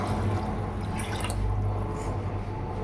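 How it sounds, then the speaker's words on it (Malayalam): Water is poured from a glass into a pot of rice for vegetable biryani, a steady close splashing and trickling that runs unbroken for a few seconds with no talking. "അപ്പൊ അതിലേക്ക് 5 ഗ്ലാസ് വെള്ളം നമുക്ക് ഒഴിക്കാം."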